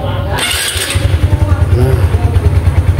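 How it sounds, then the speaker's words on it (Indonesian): A Honda Supra X 125 FI motorcycle engine starts with a brief burst and settles into a steady, close, pulsing idle with a low throbbing rhythm. "Sekarang kita coba hidupkan mesinnya guys."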